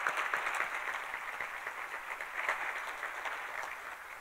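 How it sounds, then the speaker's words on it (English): An audience at a business speaker event applauds its sponsors, a steady, moderately quiet patter of many hands clapping for a few seconds with no one speaking over it. "please join me in a round of applause for our sponsors"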